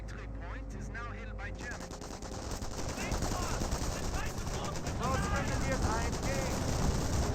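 Machine gun and rifle fire rattle through a Company of Heroes battle, with rapid overlapping bursts and shots continuing steadily throughout, while a commentator talks over the combat.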